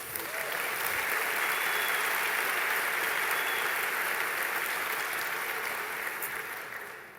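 An audience at a Christian church sermon breaks into sustained applause, a broad, even wash of many hands clapping that swells quickly, holds for several seconds and tapers off slightly, with no voices above it.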